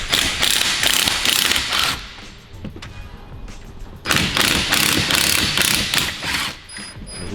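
A ratchet torques bolts back down on a Hellcat Redeye engine during an 1100 HP build: close, loud bursts of rapid clicking, a brief lull near the middle, then another run of quick ratcheting strokes.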